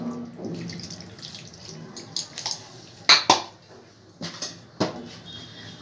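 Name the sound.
pouring water used to rinse the mixer jar into a pot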